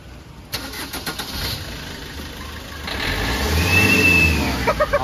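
A Maruti Swift car fitted with an aftermarket turbo whistle cranks and starts, then idles and revs, with a thin high whistle rising over the engine as it picks up; fairly close and moderately loud.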